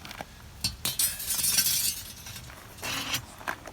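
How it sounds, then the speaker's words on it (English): Rebar cutter snipping a steel reinforcing bar for a porch foundation, giving a few sharp metallic clinks and a brief rattle close by, with no voices. "rebar and you put it in the cutter, and then you go. There's one cut."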